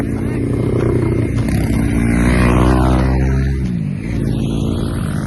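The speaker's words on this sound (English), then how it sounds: "I've got some kids going past on a motorbike" A motorbike ridden by kids passes nearby in Bendigo, Victoria, its loud engine drone rising as it approaches and then falling away as it goes.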